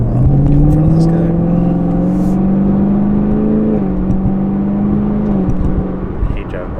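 A car accelerates and drives past a semi truck, a loud, close engine note whose pitch rises steadily, then drops as it passes. Talk is faint underneath.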